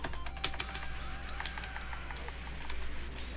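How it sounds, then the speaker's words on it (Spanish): Old, noisy computer keyboard typed on continuously while playing Metal Slug, a rapid irregular clatter of keystrokes close up over low background hum, with no one talking. "Sé que ahorita se oye mucho el teclado, pero es porque es de esos ruidosos antiguos."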